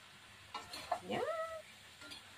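Pancit bihon rice noodles with vegetables being stirred in a pan, a few quiet scraping and clinking strokes of a utensil over a faint background.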